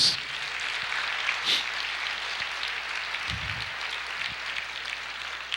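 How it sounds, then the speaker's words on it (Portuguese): Congregation applauding inside a church during a sermon, a steady broadband patter of many hands filling the room with no voices on top. "Você pode aplaudir o nosso Deus?"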